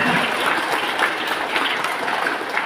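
Audience clapping steadily throughout at a religious gathering for Hari Santri in Indonesia, a dense, continuous burst of applause from a crowd, fairly close and alone without talk.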